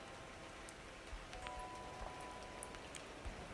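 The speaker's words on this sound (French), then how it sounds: "je prends quand même trop de pluie" Rain falling in the mobile video game ARK, a faint, steady patter of drops under a light hiss, with a few soft tonal blips and no voices.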